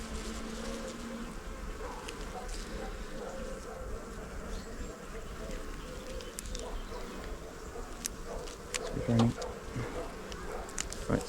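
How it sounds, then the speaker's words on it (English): Dense swarm of honey bees droning steadily throughout a hive inspection while a frame of cut comb is handled, close and continuous, with a brief louder burst near the end and faint knocks underneath. "shake the bees off"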